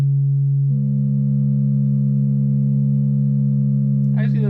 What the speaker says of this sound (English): add together with each other, getting a very big mess. And so you get a harmony that sounds really gross